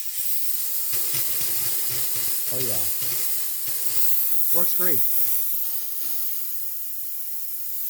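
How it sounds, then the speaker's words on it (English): A Gaggia Classic Pro espresso machine's steam wand, with a newly replaced steam valve and knob, lets out a continuous loud hiss of steam while someone speaks briefly over it. "Check the steam again."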